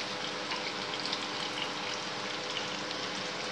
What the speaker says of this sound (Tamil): வெங்காயம், பச்சை மிளகாய் எண்ணெயில் வேகட்டும்